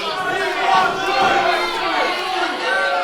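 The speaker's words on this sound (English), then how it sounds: "the loudest I've heard from the crowd here assembled at Swan Dive" Crowd at a live wrestling show in a small venue, a loud roar of voices with shouts and chants swelling and dipping throughout, thick with overlapping cheers and calls.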